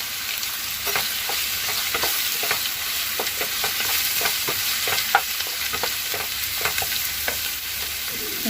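Green chillies frying in a pan after ginger-garlic paste, a steady sizzle broken by regular scrapes and clinks of a stirring spoon, close and continuous with no talking.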